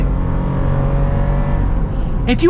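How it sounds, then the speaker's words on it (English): A new Toyota 4Runner's engine drones under heavy throttle from inside the cabin, a loud sustained low rumble that builds without much change, with a brief voice at the end. "even getting deep into the throttle, it ain't doing much"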